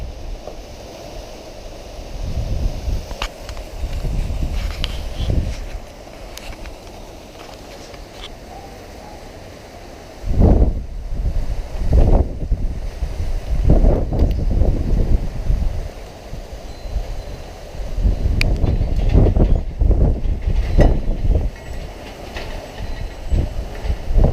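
Strong wind blows outdoors at night under a light, with heavy rumbling gusts rising and falling. Louder surges come in the second half.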